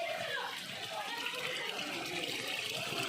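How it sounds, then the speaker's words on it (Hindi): Clear spring water pours steadily from a mountain waterfall at the Shiv Khori shrine, a continuous broadband splashing rush close by, with no voices over it. "यहीं से जो है निकल रहा है झरना"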